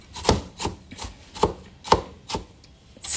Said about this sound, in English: I'm just chopping now for fun